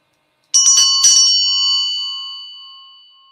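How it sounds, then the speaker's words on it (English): A Tibetan bell is struck twice in quick succession, its bright metallic ring sustaining and slowly fading over several seconds, alone and close. "we have a Tibetan bell."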